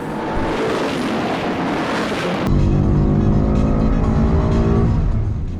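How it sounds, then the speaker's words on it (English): A supercharged 2016 Ford Mustang on a race track makes a loud, hard-driven engine roar that switches abruptly midway to a strong, steady droning tone as it accelerates. "This car really makes noises that make you fizz inappropriately, in my opinion."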